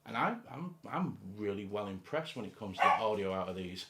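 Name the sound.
dog barking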